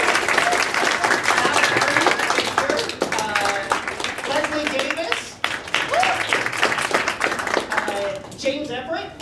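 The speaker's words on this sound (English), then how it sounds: "So please wait, big round of applause, Tina Liebling, right here." A crowd at an elections forum claps continuously in loud, dense applause that carries on for several seconds, with voices speaking and calling out over it.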